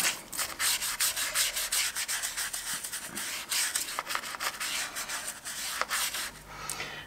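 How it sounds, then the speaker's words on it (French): Steady scratchy brushing strokes scrub across a fireplace stone in a quick, continuous back-and-forth rhythm, close and fairly loud. "on va essayer de brosser un petit peu aussi la pierre"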